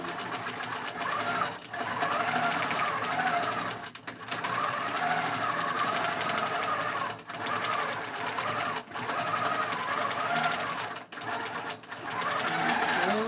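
A quilting machine stitching across a pillow top on a Cutie frame runs steadily and loudly, with an odd rattling hum that drops out briefly several times as it stops and restarts.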